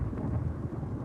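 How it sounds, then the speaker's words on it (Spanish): Steady rain with a low thunder rumble rolls throughout, dense and fairly loud with no clear breaks, heard alone. "Llueve."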